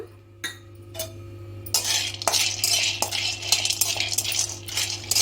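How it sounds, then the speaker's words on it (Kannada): Peanuts being dry-roasted in a pan for a niger seed powder, stirred with a spoon: close scraping and clinking of metal on the pan, sparse at first then busy and continuous, with no talk. "ಇವಾಗ ಕಡಲೆ ಬೀಜ ಹುರ್ಕೊಳ್ಳೋಣ"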